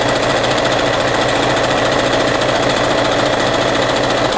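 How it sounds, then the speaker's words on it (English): A sewing machine straight-stitches across a rag quilt, a fast, steady mechanical whir and rapid needle clatter running continuously and close up. "we'll start stitching. Just straight stitching straight across."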